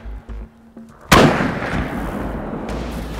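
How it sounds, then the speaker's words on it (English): A Traditions muzzleloader rifle fires once while hunting, a loud sharp boom that rolls out into a long fading rumble after some quiet handling noises. "It's a long shot for free-handed muzzleloader hunting, isn't it?"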